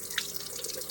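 Hot water runs from a household tap into a sink for a late-night face wash, a steady soft trickle with faint dripping, close and quiet, no talking.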